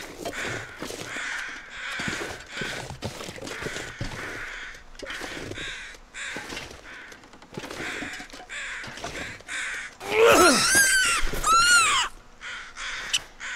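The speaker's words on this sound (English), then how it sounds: "they're the crows." Crows caw in the video game The Long Dark, a cluster of harsh calls bursting out loudly near the end over a steady wintry wind and crunching footsteps.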